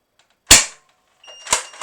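A Gel Blaster HPG-700 firing Orbeez gel beads that were stored for three months in a bottle gives one sharp, loud pop, then a short burst of two more close snaps after a brief pause.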